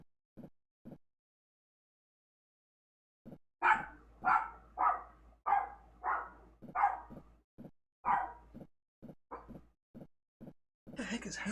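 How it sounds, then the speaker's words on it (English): Several sharp dog barks come in irregular bursts at close range, with a few softer yips between them, preceded by brief quiet taps and ending in a louder, busier burst. "Is your dog barking?"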